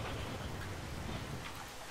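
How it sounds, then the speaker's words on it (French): Steady rain in Jurassic World Evolution, a dense, even hiss of falling water with a low rumble underneath, continuous and fairly loud throughout. "Tiens, bah il pleut en plus."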